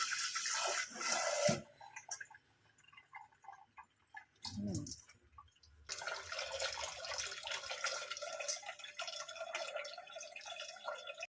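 Foxtail millet is rinsed under running water at a kitchen sink. Bursts of gushing tap water and swishing grain are broken by a quiet pause, then a longer steady stream follows.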